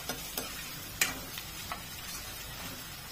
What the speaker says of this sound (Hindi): और अच्छे से अभी हम इसे तेल में फ्राई करके ले लेंगे